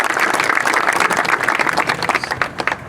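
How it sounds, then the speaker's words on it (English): Audience applause fills a bridge dedication ceremony, dense and steady throughout with many hands clapping at close range. It tapers slightly toward the end. "Please give her a big round of applause."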